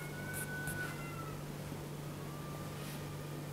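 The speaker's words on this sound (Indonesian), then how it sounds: "Bunyi kucing." A cat meows at night in two thin, drawn-out calls, faint and somewhat distant, over a steady low electrical hum.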